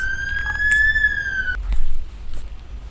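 A kids' educational fire truck siren: a loud, steady rising wail with bright harmonics for about a second and a half, cutting off abruptly, followed by a short burst of lower rumbling noise.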